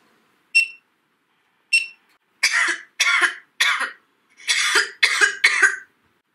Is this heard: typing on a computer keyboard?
no